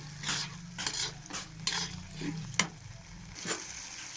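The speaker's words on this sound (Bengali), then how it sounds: "সসটা দেওয়া হয়ে গেছে। এরপর আমি নেড়ে চেড়ে" Sauce being stirred into egg bhujia in a pan, with repeated short scraping strokes of a utensil over a soft sizzle, close and moderately loud, no talking.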